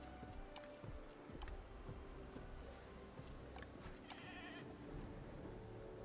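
Goat bleats from Jurassic World Evolution, a few short wavering cries over a busy game soundscape of rustling and ambient noise, fairly faint and mixed into the background.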